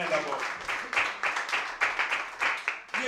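Church congregation applauding and cheering for the Lord. Close, continuous clapping is mixed with excited voices and cheers, loud throughout the short stretch.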